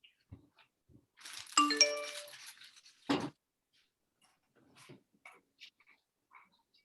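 Phone notification chime: a quick run of bright stepped tones rings out once, nearby and fairly clear, surrounded by a few faint clicks and soft noises in a quiet room.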